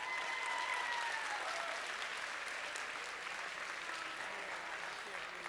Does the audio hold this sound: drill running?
no